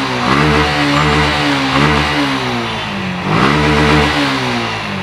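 A blue black edition BS6 motorcycle, first-owner and in fresh condition with about 14,000 km, runs loud and close, its engine note rising and falling through repeated revs.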